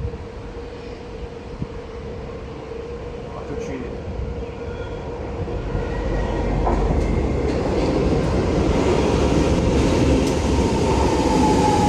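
A Siemens C651 metro train rumbles and clatters into Tanah Merah station in Singapore, its roar growing louder and steadier over several seconds, with a faint high whine above the rumble.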